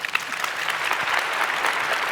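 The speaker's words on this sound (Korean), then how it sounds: "여러분 만족하시면 박수를 한번 보내주시죠" Audience applause at a Korean political forum panel, a steady broadband wash of many hands clapping throughout, moderately loud and continuous with no voices on top.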